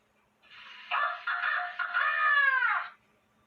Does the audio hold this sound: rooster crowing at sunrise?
yes